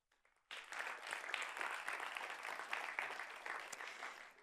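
After a moment of near silence, an audience at the Grand Prix de la Data 2023 award ceremony breaks into sustained, even applause that holds steady until the end.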